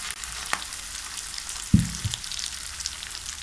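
Tunisian brik, a thin pastry parcel with egg, fries in hot oil with a steady close crackle, and a brief heavier splash-like burst partway through as the oil bubbles up.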